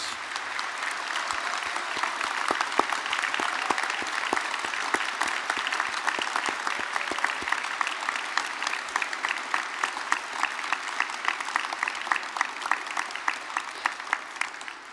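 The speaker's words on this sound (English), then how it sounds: "could I ask all of our graduates to give your families, friends and supporters a big round of applause" Graduates at an Open University degree ceremony in Belfast give a long, steady round of applause to their families, friends and supporters, dense hand claps filling a large hall with no break.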